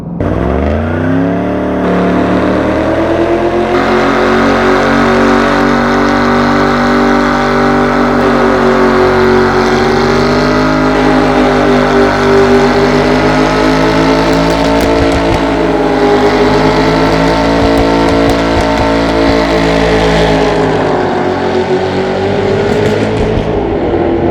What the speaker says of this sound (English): What a great burnout that was!